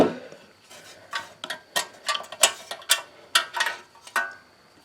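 Plastic recoil starter spool on a small engine clicking and ratcheting as the pull rope is worked loose with a small bent pick, a run of close, sharp irregular ticks and rattles.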